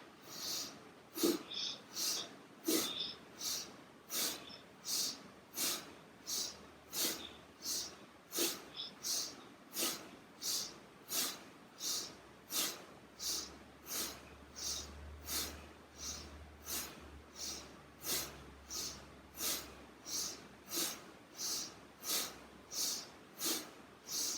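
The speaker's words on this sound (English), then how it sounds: "You're breathing in and out to the same length." Slow, even breathing in and out through the nose or mouth during a calm mindfulness exercise, with many regular breath cycles of matched length. It is soft and close, with no talk over it.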